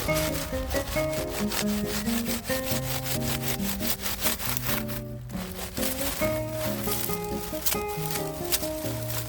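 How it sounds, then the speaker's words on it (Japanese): A handsaw cuts through a large fallen garden plant stem in fast, steady back-and-forth strokes, close and continuous, with a tuneful background underneath. "ノコギリでカットする"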